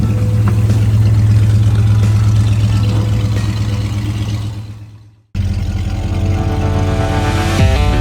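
A classic car engine idles steadily and loudly for about five seconds, cuts out briefly, then resumes running with a slight rev near the end; no talking.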